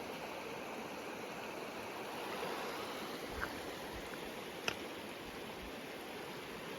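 Indian Head Creek flows in the backcountry along the Red Deer–Clearwater rivers, a soft, steady wash of running water that stays at the same level throughout, with a couple of faint ticks near the middle.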